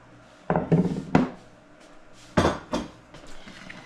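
Metal pots and pans clatter and clink as a bigger pan is pulled out in a home kitchen, a few sharp knocks and bangs in two short bursts, close by.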